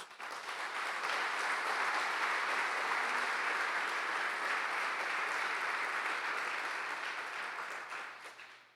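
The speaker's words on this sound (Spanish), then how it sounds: "Den un aplauso al Señor Jesús." A congregation in a church applauds for several seconds in a dense, steady wash of clapping that fades out at the end.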